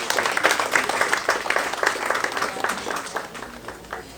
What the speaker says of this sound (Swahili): Naomba tumpigie makofi.